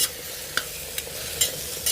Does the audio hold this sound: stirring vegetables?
yes